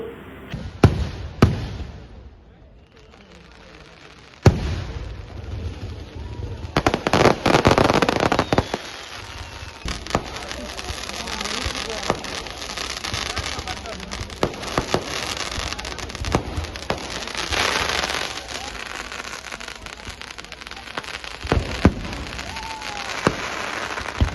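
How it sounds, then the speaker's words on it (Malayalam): Fireworks display at the Madhur temple festival: sharp bangs and crackling bursts recur irregularly, some loud and near, with rolling noise between blasts and no voices. "മധൂർ വെടിക്കട്ടയിൽ വെടിക്കെട്ട് പ്രദർശനം നടന്നു"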